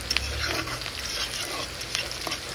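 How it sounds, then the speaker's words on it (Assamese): Onion, green chili and five-spice fry in leftover fish-frying oil for an Assamese fish and pumpkin dish, a steady close sizzle broken by repeated scraping stirs, without any talking. "আৰু এতিয়া এইখিনি ধুনীয়াকৈ ৰংচঙীয়া হোৱালৈকে ভাজি থাকিম"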